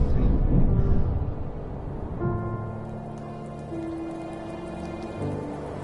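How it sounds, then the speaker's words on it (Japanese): Rain in The First Tree game falls steadily as a soft hiss of drops, heaviest at the start and then settling into a quieter patter beneath a gentle sustained musical drone. "雨が降ってきた。"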